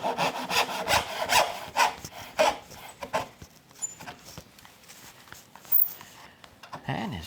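A hand saw cuts dovetails in wood with a run of rhythmic rasping strokes, loud at first and then lighter and more scattered, with some faint speech in the background.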